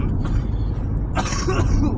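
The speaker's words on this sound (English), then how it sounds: "Stop coughing." A person with strep throat gives a short, rough cough up close, a brief burst after a second of low background rumble.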